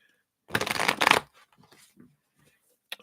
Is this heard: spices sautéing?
no